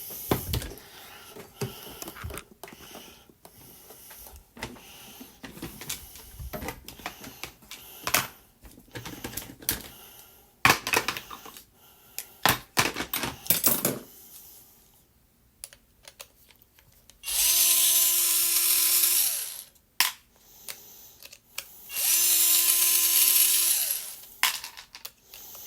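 Screws being removed from the back plate of a Traxxas TRX 2.5R nitro engine, with many close clicks, taps and scrapes of small tools, then two long, steady whines of a power driver spinning the screws out.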